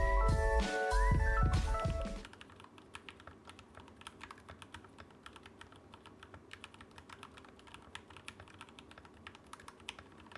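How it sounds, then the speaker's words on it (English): Fast, steady keyboard typing during a Monkeytype typing test, dense close keystrokes clicking continuously for most of the clip after a short loud musical intro, with no talking. "So now let's hop onto monkey type for our typing test"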